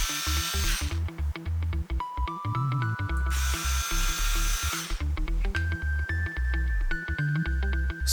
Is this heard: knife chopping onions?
no